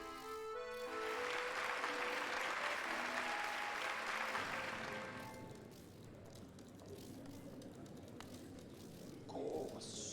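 A crowd in the video game Hollow Knight bursts into dense, loud applause that holds for several seconds before thinning out into quieter background ambience.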